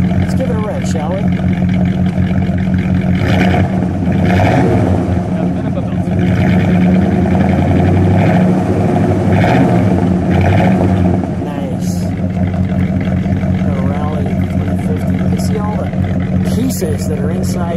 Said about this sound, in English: Let's give it a rev, shall we?